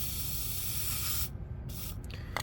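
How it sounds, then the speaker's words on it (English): Black spray paint hisses from an aerosol can into its cap, a close, loud, steady spray for just over a second, then cuts off, followed by a couple of short bursts. "spray it into the cap"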